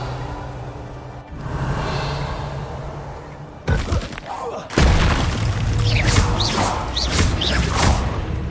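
The Revelio spell is cast in a Harry Potter game. A sustained magical whoosh gives way to a booming burst, then shimmering swells and chimes, loud and up close.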